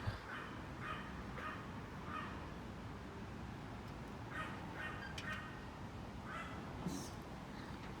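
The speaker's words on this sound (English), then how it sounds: "Too bad those dogs are cute, the Yorkies with a yap." Small Yorkshire terriers yap in short, scattered bursts at a moderate distance, repeated over several seconds against a steady background hum, with no one talking.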